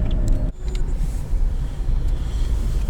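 A car pulling away to head home, its engine a steady low rumble close by, with a brief dip and thump early on and then an even, continuous drone, no talk.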